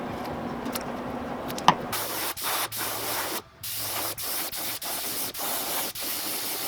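An airbrush hisses steadily in repeated bursts with brief pauses between them, spray-painting a crankbait fishing lure, close and fairly loud, after a quieter start with a small click.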